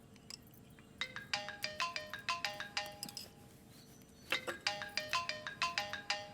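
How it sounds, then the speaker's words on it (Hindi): A mobile phone ringtone plays for an incoming call, a bright repeating melodic chime in two bursts separated by a short gap, moderately loud and with no talk over it. "वो 9 बज गए हैं ना, तो नाश्ता किया कि नहीं इसलिए माँ का फोन है।"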